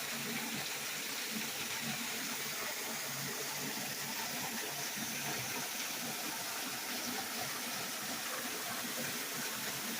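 Spring water at Falling Springs near Winona, Missouri, rushing out steadily in a broad continuous hiss and gurgle, fairly faint and unchanging throughout, with no speech.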